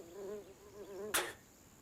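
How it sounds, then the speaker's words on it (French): Flies buzz close by in a wavering drone that rises and falls for about a second, then a sharp burst of noise cuts in and the buzzing stops. "Je déteste les mouches."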